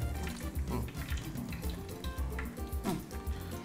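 Dried red chilies fry in hot oil with already-popped mustard seeds for a Kerala-style beef curry, giving a steady close sizzle with light crackles and occasional stirring clinks.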